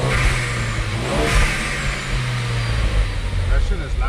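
A turbocharged Ford Focus ST engine revs up and falls back repeatedly in neutral, loud and close, with a raspy throaty tone and voices faintly underneath.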